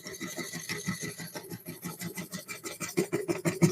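A scraper rasps against a warped green wood bowl spinning on a lathe, making quiet, rapid rhythmic scratching close by.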